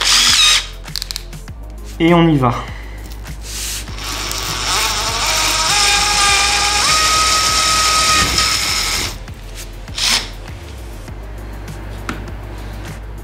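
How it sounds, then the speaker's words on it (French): A Bosch power drill, set to 1500 watts, bores a hole with a 10 mm bit during a radiator installation, whirring steadily for several seconds at close range, with brief speech before and after. "On prend la perceuse"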